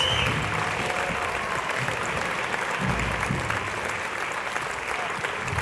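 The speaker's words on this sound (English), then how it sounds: "Get an extra round of applause." An audience at an Ignite Portland talk event applauds steadily, a dense wash of clapping that holds at an even level throughout.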